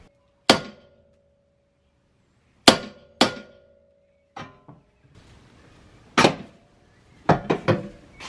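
Sharp metallic hammer blows ring out as a ball joint is knocked free of a Toyota JZX100 front upper control arm, seven or eight separate strikes with ringing decay, some in quick pairs, with quiet pauses between.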